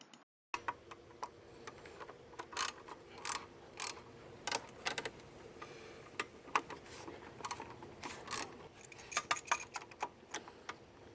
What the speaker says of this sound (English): I'm just going to use the extension in the socket to take out the bolts